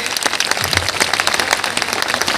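A seminar crowd in Deoria breaks into loud, dense applause, with many hands clapping close together throughout, unbroken by speech.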